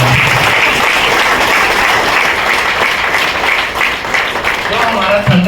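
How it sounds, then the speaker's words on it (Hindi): Sustained applause from a crowd at a product training event, dense and steady throughout, with a voice briefly audible beneath the clapping. "तो एक बार इस प्रोडक्ट के लिए जोरदार तालियां।"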